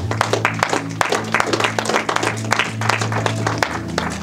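A church congregation applauds the Lord, a steady round of many hands clapping close and loud, with sustained low musical tones underneath.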